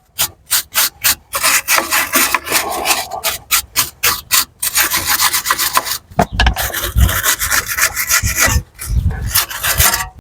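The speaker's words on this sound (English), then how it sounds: "Right, I'm going to just wire brush in there." A wire brush scrubs the wheel hub of a BMW E92 3 Series during a front wheel bearing change, loud close rasping strokes in quick bursts, then a longer stretch of continuous harsh scrubbing.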